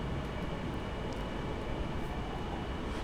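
A Class 159 train passes in Train Simulator, a steady rushing rumble of wheels and engine that stays fairly loud and even for a few seconds with no talking.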